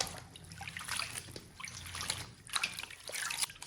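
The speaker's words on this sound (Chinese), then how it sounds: "把韭菜给它清洗干净。 洗干净之后，我们再给它清洗一遍。" Chinese chives being washed under running water in a kitchen, a steady trickle and splash with brief sloshing bursts as the leaves are handled, close by and without speech.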